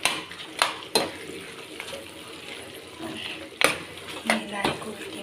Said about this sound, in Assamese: মিলাই কৰি দিম